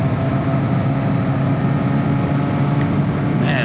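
The four-cylinder engine of a Yamaha Maxim 700 motorcycle hums steadily at high revs while riding, a smooth, constant drone under wind noise with no break.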